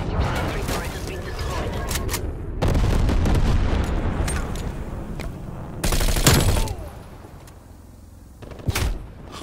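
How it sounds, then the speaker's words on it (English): Napalm strike in Call of Duty on the Nuketown map: loud, sustained roaring bursts of fiery explosion noise rising and falling across the clip, with a sharp crack near the end and voices underneath. "I spawned on top of a napalm."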